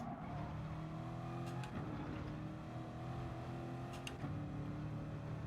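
A race car engine in the Gran Turismo Sport video game drones loudly and steadily, its pitch dropping sharply twice as the car brakes hard and downshifts before settling back into a sustained roar.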